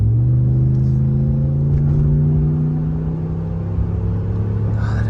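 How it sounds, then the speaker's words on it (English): A Ram 1500 pickup with the 5.7 engine idles and revs through its exhaust, a steady, close, loud deep rumble with layered tones that swell slightly, with no talking. "that exhaust sounds great, especially when you get it up high in the revs too"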